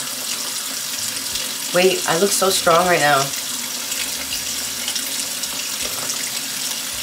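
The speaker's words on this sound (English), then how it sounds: "now you just wash it out till all the water's clear or not soapy" Tap water runs steadily into a sink while hair is rinsed clear of soap, a continuous hiss and splash under a brief stretch of talking.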